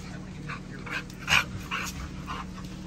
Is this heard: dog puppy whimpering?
yes